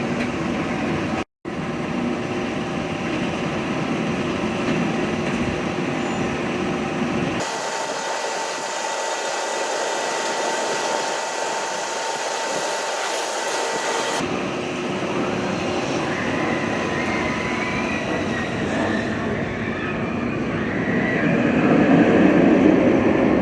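A ride on the Flight Deck roller coaster at California's Great America, with a continuous loud rumble and rattle of the train on its track, shifting abruptly in tone as the ride moves through different sections.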